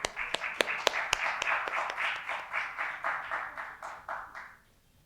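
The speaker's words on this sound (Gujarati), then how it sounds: "એક સરસ મજાની તાળીઓ" Audience clapping at a public cancer awareness seminar, a few sharp individual claps opening into steady applause from a moderate-sized crowd that fades out after about four seconds, no talking over it.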